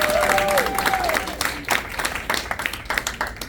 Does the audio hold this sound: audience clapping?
yes